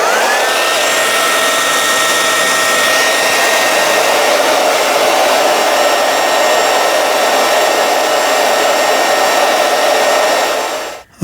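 A heat gun blows a steady, loud whooshing roar while heating the legs of an Answer Manitou 1 suspension fork to soften the elastomer inside, holding constant for about eleven seconds before cutting off abruptly.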